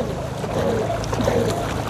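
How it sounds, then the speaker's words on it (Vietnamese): Rowers paddle a long Ngo racing boat at Ong Kho in even rhythm, water rushing and splashing steadily against the hull close by, with wind buffeting the microphone throughout. "nghĩa là anh em đang đưa ghe của mình đi rất là đều"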